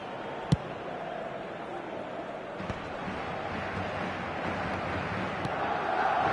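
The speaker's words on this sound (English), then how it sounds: "Certainly gave this crowd something to really cheer about." A stadium crowd in the eFootball video game roars steadily under match commentary, a continuous wash of cheering that swells slightly toward the end.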